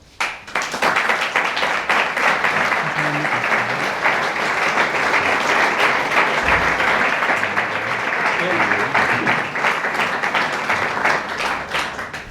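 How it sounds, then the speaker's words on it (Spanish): Sustained, loud applause from an audience in a parish hall welcoming speakers, dense continuous clapping filling the room for the whole stretch with no pause. "Recibámoslo con un cariño que merecen y con un fuerte aplauso"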